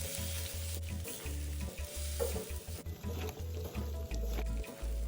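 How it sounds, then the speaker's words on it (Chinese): Curry spice paste stir-fried with added water for curry cassava: loud, close, bubbling sizzle with repeated spatula scrapes in an uneven rhythm, no voices. "然后继续拌炒至香料糊再次完全化开"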